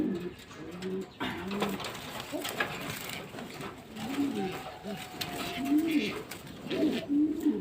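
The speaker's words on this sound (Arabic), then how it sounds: "يبقى ده اول حاجه معايا الحمام الفلاحي" Fellahi pigeons cooing in soft repeated low calls, several birds close by with a steady murmur of coos over a noisy background.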